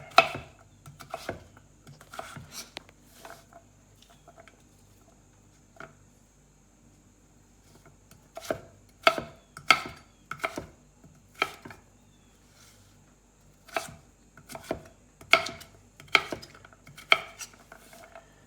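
Knife chopping butternut squash into cubes on a board, sharp close thunks in irregular bursts separated by pauses, quiet between strikes, no talk.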